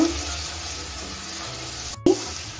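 Ground spice paste with cumin and green chili fries over a low-to-medium gas flame for a butter cauliflower dish, giving a steady, close, even sizzle with a brief break near the end.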